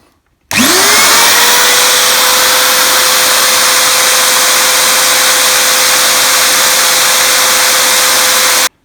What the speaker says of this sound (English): I've put it back in the drill, and I'm going to file that so it's a smaller diameter as the drill spins